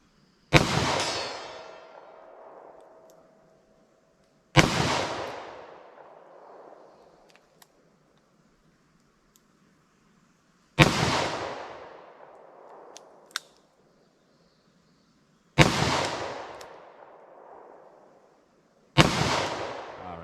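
A .357 Magnum revolver fires five shots into ballistic gel, each a sharp loud report with a long decaying echo, spaced several seconds apart outdoors.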